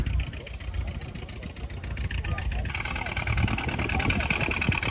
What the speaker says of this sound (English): There goes the red car